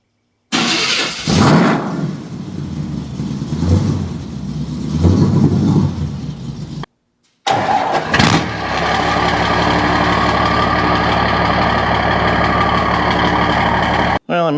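A small block Chevy and a 5.9 Cummins diesel are started in a garage; an engine fires and dies amid talk, then after a short gap one catches and holds a loud, steady rumbling idle.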